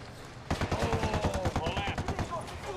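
Rapid bursts of gunfire in a video game, dense close shots in quick succession, with a player's voice talking over the shooting.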